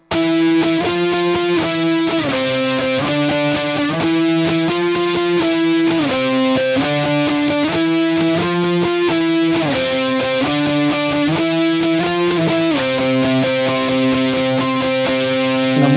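A continuous distorted electric guitar riff played at a steady, slow pace, with repeated chugging notes and shifting chords, loud and unbroken.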